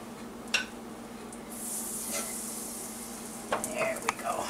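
A slice of bread and cheese for a grilled cheese sandwich sizzles steadily in a hot pan, joined by brief scraping and clinking of a utensil, heard close up with no talking.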